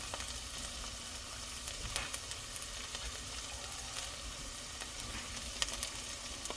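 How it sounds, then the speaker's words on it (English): Celery added to a soup pot of onions, garlic and carrots sizzles at a low, steady level, with a soft continuous frying hiss and a few faint stirring clicks throughout. "Now we're going to go ahead and throw in some celery."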